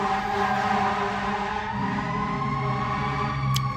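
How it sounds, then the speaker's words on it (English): Sirens wail steadily in the distance, their tones holding and overlapping without a break. "Sirens. Somebody's in trouble."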